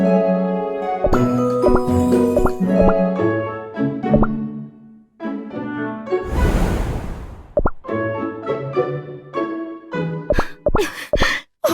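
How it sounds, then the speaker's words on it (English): Bright jingling bell tones of Silverbell Cookie ring out in a busy Cookie Run game soundtrack, with plopping effects and a noisy burst partway through. "Hear my bell!"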